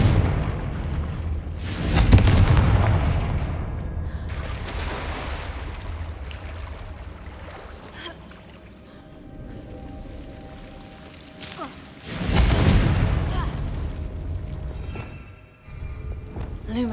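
Two heavy blasts from the Confringo explosive spell in Hogwarts Legacy on PS5, each a booming burst that rumbles and fades, separated by quieter ambient stretches.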